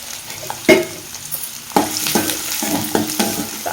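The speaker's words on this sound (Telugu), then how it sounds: "మంచిగా పచ్చివాసన పోయే వరకు అయితే ఫ్రై చేసేసుకోవాలి" Onion, green chilli, cumin and mustard seeds fry in hot oil with a steady close sizzle, broken by a few scraping stirs of a spoon. No one speaks.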